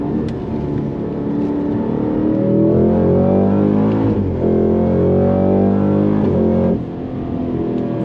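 A Cadillac CT5-V Blackwing engine revs steadily and loudly from inside the cabin, its pitch rising and then dropping sharply twice as it downshifts.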